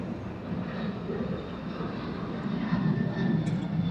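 Airliner taking off at Atlanta airport, a broad steady engine roar that swells slightly toward the end, heard from a distance with no other sounds standing out.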